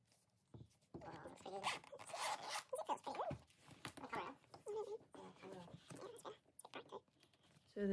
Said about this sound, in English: Zipper closure